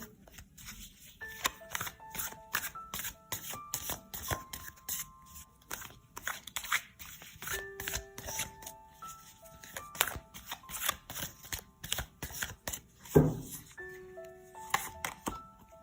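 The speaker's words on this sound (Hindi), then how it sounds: "टैरो की मदद से मैं पहले कार्ड्स लेती हूँ, उसके बाद कुछ और कार्ड्स भी देखेंगे।" Tarot cards being shuffled by hand at close range, a steady run of crisp riffling and flicking strokes with short pauses and one sharper knock near the end, heard alone with no talking.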